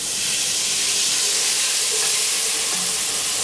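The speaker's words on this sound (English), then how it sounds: "so I'm going to add in my milk" Milk poured into a hot pan of cooking roux for a lobster mac and cheese sauce gives a steady, close sizzling hiss that runs unbroken throughout, with no talking.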